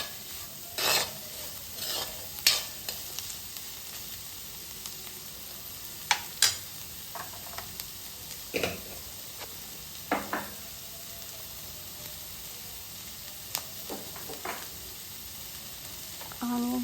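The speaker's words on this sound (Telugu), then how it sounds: "Onions and carrots and bell peppers బాగా కుక్ అవుతున్నాయి." Onions, carrots and bell peppers fry over high flame in a pan, with a faint background sizzle broken by scattered stirring scrapes and clinks of a utensil against the pan.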